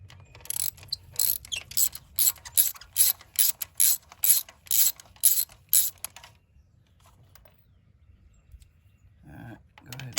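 Ratchet wrench loosening bolts on a 2014 Chevy Cruze LT with the 1.4L engine during a tune-up, about a dozen rapid clicking ratchet bursts in steady rhythm, close and loud, then quiet with a brief knock near the end.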